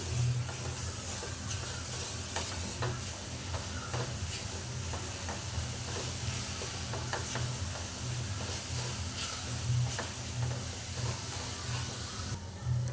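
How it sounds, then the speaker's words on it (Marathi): A jaggery filling with cardamom and nutmeg powder stirred in a pan over heat for modaks, a continuous soft scraping and sizzling hiss with steady rhythmic stirring strokes, close and alone without talk. "याच्यामध्ये वेलची आणि जायफळची पावडर टाकून घेऊया छान मिक्स करून घेऊया"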